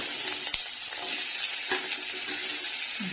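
Mixed vegetables frying in hot oil seasoned with panch phoron in a wok, a steady broadband sizzle with a few soft clicks and stirring knocks, close and continuous without talk.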